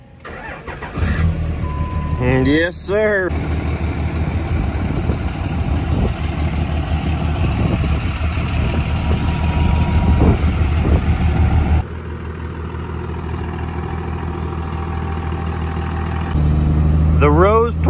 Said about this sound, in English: let's get the truck fired up